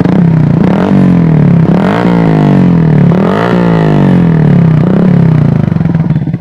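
An MX King 150 motorcycle fitted with a Tridente F20 Raptor exhaust, revved repeatedly in short bursts from a deep idle, each blip rising and falling, loud and close with no talk.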